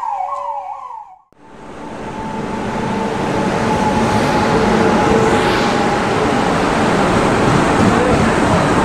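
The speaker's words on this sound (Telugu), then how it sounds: "ఇప్పుడే మనం వెళ్ళాల్సిన ట్రైన్ అయితే వచ్చింది" A double decker train pulls into Nellore railway station, sounding a loud horn blast, then a rising roar of wheels and rumble that builds and holds strong and close, with no voices.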